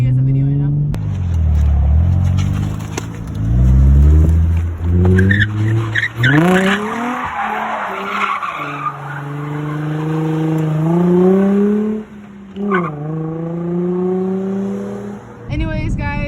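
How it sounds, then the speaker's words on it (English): A Nissan 350Z drifts with loud, sustained tire squeal and a revving engine rising and falling in pitch, heard up close from inside the car, with voices talking over parts of it. "I'll do a little drift."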